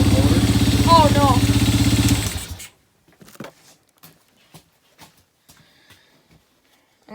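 A Vespa Rally 200 scooter engine idles close up with a steady, throbbing mid-pitched putter for about two seconds and then cuts out. Scattered clicks and small handling noises follow in near silence.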